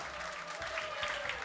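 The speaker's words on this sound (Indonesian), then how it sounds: "Nah, ini baru boleh tepuk tangan." Studio audience applauding on an Indonesian TV talk show, a steady wash of clapping held at an even level for the whole moment with no voices on top.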